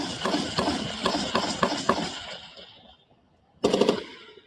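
Continuous gunfire in an active war zone, a run of sharp evenly spaced shots for about two seconds that fades out, then a separate loud burst of rapid fire after a short lull.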